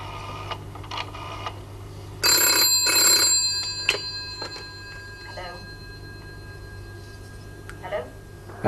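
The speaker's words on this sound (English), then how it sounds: "I've got a telephone call coming in on that emergency number" An incoming call on an emergency telephone number sets off a bright electronic ring in a short burst, loud and close, with quieter clicks and scattered speech in a room before and after it.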